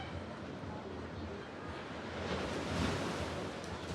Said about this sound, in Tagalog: Ang ganda ng karagatan ngayon. Napakalinaw.